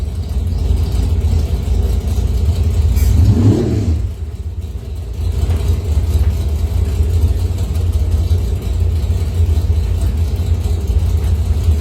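Top doorslammer drag car on a test and tune pass, a loud continuous engine roar with a rising rev sweep near the middle before settling into a steady heavy drone.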